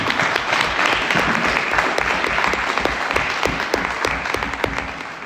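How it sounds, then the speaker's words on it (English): Steady, dense applause from an audience at a volunteer fire department town hall, loud and sustained throughout without speech over it. "I just want to give them a round of applause to those guys as well."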